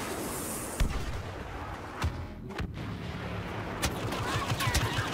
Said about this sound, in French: je vais sortir le sniper et je vais vous montrer un peu le sniper ce qu'il vaut